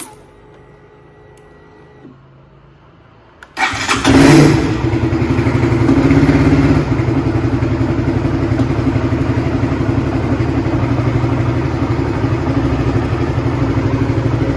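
Honda CBR150R motorcycle with a newly repaired starter motor, first quiet, then the electric starter cranks briefly and the engine catches into a loud, steady idle that carries on to the end.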